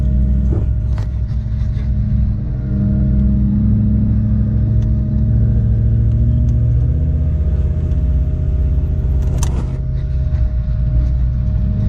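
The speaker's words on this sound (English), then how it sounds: "It's got some engine braking happening in there." A Toyota Surf with a 1UZ-FE V8 engine braking downhill off-road, giving a steady low, droning engine rumble with a faint whine. A brief knock sounds near the end, with no talking.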